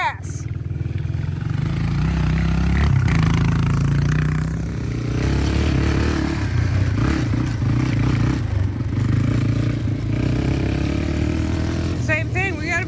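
A dirt bike engine drones and pulls through a wide turn at a riding class, a continuous buzzing rumble with clattering and scraping, close by, while a voice talks over it.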